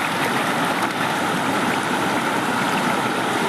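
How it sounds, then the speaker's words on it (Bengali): A flowing water stream gives a loud, continuous broadband rush with no pauses, close by and heard alone. "এখানে দেখো জলের স্রোতটার আওয়াজটা শোনো"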